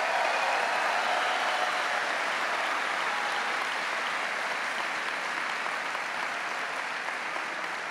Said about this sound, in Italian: Un applauso a Carmen.